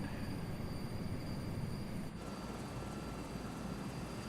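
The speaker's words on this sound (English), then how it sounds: "One of my favorite things about the Skycrane is this taxiing" A Skycrane helicopter taxis on the ground in Microsoft Flight Simulator 2024, a steady close rotor and turbine drone with a constant high whine that holds at one level throughout, with no talking.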